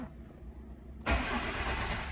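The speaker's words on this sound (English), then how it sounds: "And when I try to start the car," A car engine cranks but fails to start because of an immobilizer fault. After a second of near quiet, a loud, steady mechanical churning sets in and continues without catching.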